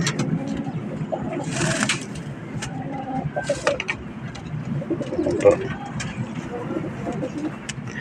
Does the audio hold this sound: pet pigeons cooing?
yes